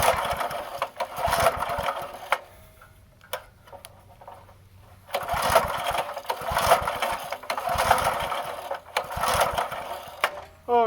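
A 1990 Task Force 5hp rototiller engine being pull-started, heard as repeated bursts of rapid ticking, chugging turnover with a pause between attempts; it never catches and runs.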